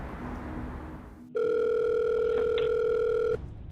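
A steady, loud telephone tone cuts in for about two seconds during a call to a customer service centre, then stops abruptly, with faint background noise before and after.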